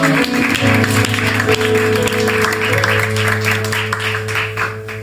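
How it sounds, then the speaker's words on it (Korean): Steady, loud applause from a large congregation at an evening worship service fills the whole stretch, with sustained music or organ tones humming underneath. "오늘 우리 하나님께 영광 박수 드리겠습니다."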